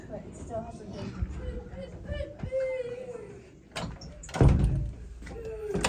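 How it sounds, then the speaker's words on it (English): Doors being opened and closed by a child indoors on a freezing day, giving a few knocks and a louder bang near the end, with people chattering in the background throughout. "He just has to open and close those doors."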